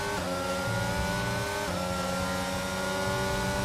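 Droning engine whine of a McLaren chasing a Haas in a Formula-style esports race at the Austrian Grand Prix, steady pitched tones shifting slightly as the cars accelerate.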